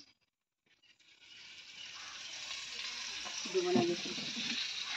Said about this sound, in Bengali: বেগুনের ভাজা